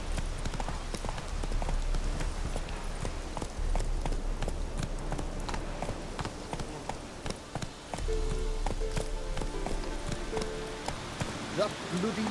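Horse hooves clip-clopping at a steady gallop in The Witcher 3 video game, a continuous rhythmic patter running the whole length, with faint background game ambience and a voice talking in the background.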